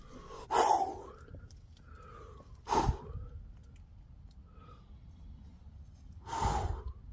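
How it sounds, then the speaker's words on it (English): Three loud, breathy gasps or snorts from an unseen creature outside a tent at night, spaced a couple of seconds apart against quiet background hiss. "I just heard it breathing."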